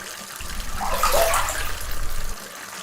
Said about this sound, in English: He removes his clothing and dips his feet into the bath.